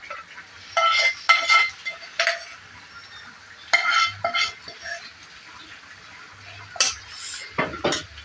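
Gongura leaves stirred into a simmering chicken curry in a metal pot, with spoon scrapes and clinks against the pan in irregular bursts, close up, with quieter gaps and a faint bubbling underneath.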